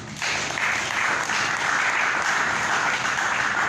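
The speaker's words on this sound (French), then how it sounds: "Applaudissons notre Dieu." A church congregation at a prayer service claps together, a dense and sustained wash of applause that holds at an even, loud level throughout, with no speech over it.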